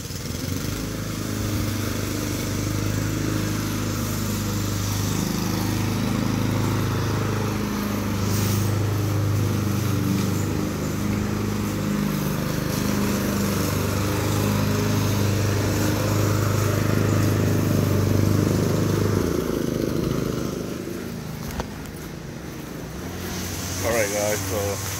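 Lawn mower engine drones steadily and loudly while cutting an overgrown yard, holding a constant near hum for most of the stretch before easing slightly near the end.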